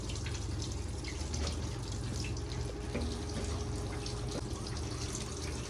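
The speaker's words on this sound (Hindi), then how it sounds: "इसी बर्तन को भी खंगाल लेंगे। साथ साथ बर्तन धुलते रहे" Water runs steadily from a kitchen tap as a cooking pot is rinsed, a constant close splashing rush with small clinks and drips on top, no speech.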